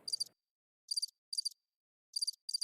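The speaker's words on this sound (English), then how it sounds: "Put the crickets on." Cricket chirps played as a comedic silence effect: five short, bright trilled bursts in an irregular rhythm, loud and close, with a faint low murmur at the start and otherwise silence between chirps.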